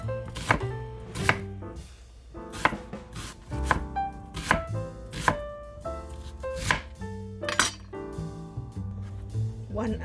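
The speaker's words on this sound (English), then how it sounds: "First, I'm gonna go ahead cut the onion." An onion being chopped with a knife on a board, a quick run of sharp, ringing clicks and clinks, close and uneven in rhythm, with no talking.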